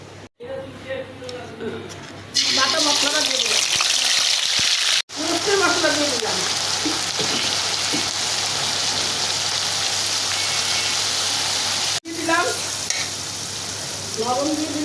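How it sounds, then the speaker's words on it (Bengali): Bay leaves hit hot oil in a heated wok and crackle into a loud, close, continuous sizzle, broken by a couple of brief cuts, while a person talks over it. "কড়াইটা গরম হয়ে গেছে তেল দিয়ে দিলাম এখন তেজপাতা দিয়ে দিলাম"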